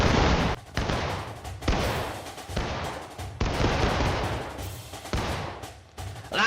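A Civil War reenactment infantry line fires musket volleys: several loud, ragged bursts of gunfire separated by short pauses, close and booming, with no talk over them.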